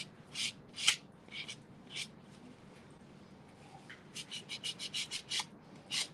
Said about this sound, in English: Sanding block's really good.